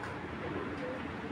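Soft pigeon cooing from grizzle and red checker pigeons, among them a pearl-eyed red checker hen, low and murmuring against a steady background hiss.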